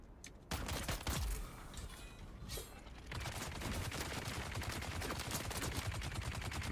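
Sustained rapid automatic fire from a chain gun in the video game Dune Awakening rattles continuously and loudly, with a brief burst and pause near the start before the stream runs unbroken.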